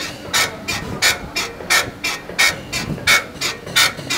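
Rhythmic mechanical rattle from a Toyota Hilux 4x4 with a noise fault, a repeating knock-and-scrape about every third of a second, steady and fairly close, with no talking.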